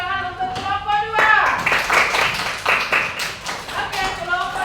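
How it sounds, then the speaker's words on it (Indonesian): Pupils in a classroom clap for a group of classmates, with a few sharp, uneven claps among children's voices and chatter that continue over the sound. "kita beri dulu tepuk tangan untuk kelompok 2."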